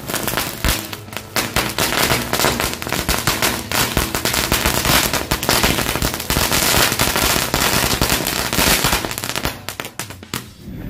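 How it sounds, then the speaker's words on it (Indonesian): A long, dense barrage of green lighting firecrackers exploding nonstop, loud crackling and popping in rapid bursts, tapering off briefly near the end. "kita lanjut menyalakan mercon green lighting"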